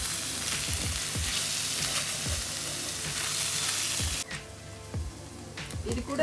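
Scrambled fish roe sizzles steadily in a pan over a low flame, with repeated scraping strokes of a spoon stirring it at an even rhythm; the frying hiss drops away sharply near the end while the stirring taps continue.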